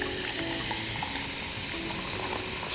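A drink poured over ice in a pint glass makes a continuous fizzing, hissing pour with faint cracks and pops of ice, close up and steady with no talking.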